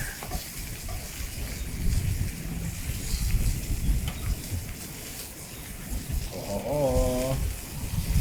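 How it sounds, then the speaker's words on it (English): Outdoor wind buffeting at a food trail stall, a steady rushing roar with low gusty rumble throughout, and brief sizzling tones near the end. "It's windy out here."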